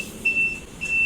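A card reader aboard a Trans Semanggi Surabaya city bus gives two short, clear, high-pitched beeps about half a second apart as a card is tapped, over faint background hum.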